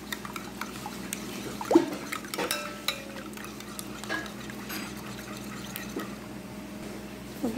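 Cake batter with a can of condensed milk being stirred in a bowl by hand, with soft scraping and light clinks of a utensil against the bowl, fairly quiet and close.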